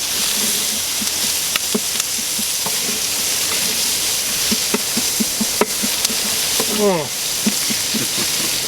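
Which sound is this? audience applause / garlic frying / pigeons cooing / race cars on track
garlic frying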